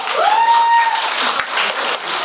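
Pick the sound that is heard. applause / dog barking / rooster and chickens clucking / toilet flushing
applause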